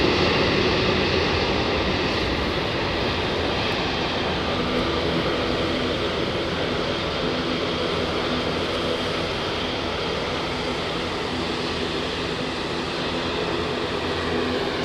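A Lufthansa airliner's jet engines scream in a loud, steady wash of broadband roar that holds for about fifteen seconds with little change in level, heard from outside at an airport.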